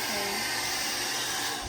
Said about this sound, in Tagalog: Blower yan, pero di yan baril.